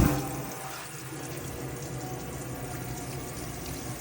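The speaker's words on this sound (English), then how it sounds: "come to the sink here and basically just pull the water through on the hot side" Hot water runs steadily from a tap into a sink in a 2011 Lunar Homecar XS motorhome, a continuous rushing hiss with no pauses.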